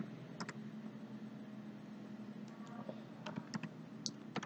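A telnet command is typed on a computer keyboard: scattered, irregular key clicks, some in quick pairs, fairly close but quiet over a steady low background hum.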